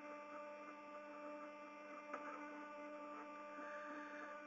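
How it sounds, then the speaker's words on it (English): An Arduino-driven stepper motor spins steadily, giving a constant tonal whine and hum with several stacked pitches, fairly quiet and unbroken, with one faint click partway through and no talking. "if I give it some juice, okay, we've got one motor doing its thing up here"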